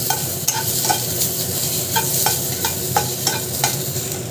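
Paneer fries in a pan for a Hyderabadi-style paneer biryani, giving a steady sizzle with repeated clicks of a spatula stirring and scraping, close and loud, with no voices.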